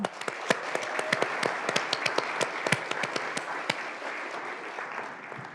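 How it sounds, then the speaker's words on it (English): At a pitch competition, the audience claps for the judges, with sharp distinct claps from nearby hands standing out over a moderate, continuous bed of crowd applause that thins slightly toward the end. "Let's give them a big round of applause."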